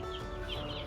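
Young egger chickens in an upgraded brooder make soft, low clucking and murmuring sounds close by under a steady background hum, brief and continuous with no talking.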